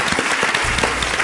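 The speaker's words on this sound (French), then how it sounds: "Et je vous remercie de les applaudir, et d'applaudir Sébastien Chabal et Clara Guémard." Dense, loud audience clapping at a live talk event, a steady close wash of applause with no break.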